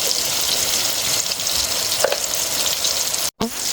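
Ground spices, red chilli powder and turmeric frying in hot oil for rajma masala make a loud, dense, continuous sizzle with a brief stir partway through and a short break near the end.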